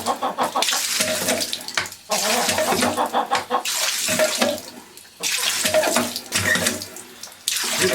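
Water from a sand point well pump gushes and splashes in surging bursts broken by short gaps, close and loud, with a chicken faintly audible in the background.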